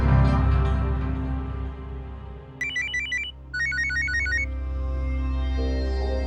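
A telephone rings with two quick bursts of bright, trilling electronic tones over a loud, droning music bed. Nobody speaks during the ringing.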